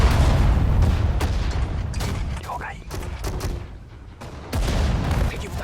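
Tanks firing in the strategy game Sudden Strike 4, several sharp booms and gunfire bursts with battle noise, while someone talks over them.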